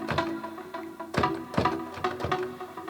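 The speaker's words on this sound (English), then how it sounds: "So our plucky synth is from Sylenth" A plucky Sylenth synth with a 1/8 delay plays short rhythmic notes, each leaving a soft echoing trail, close and at moderate level without talk.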